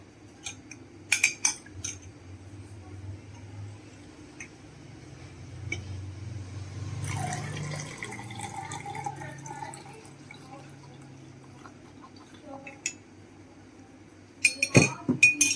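Tea being made: a spoon clinks against a glass or cup in scattered bursts at the start and end, with soft pouring or liquid sounds between, fairly quiet and close.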